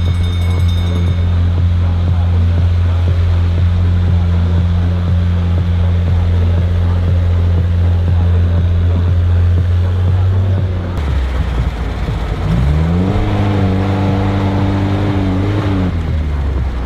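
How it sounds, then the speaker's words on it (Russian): Bigfoot off-road truck on widened Unimog axles and 52-inch tyres crawls up a hill at idle, a loud steady low engine drone that briefly dips and then swells into a rising rev before settling. "Горку берет Бигфут на холостых."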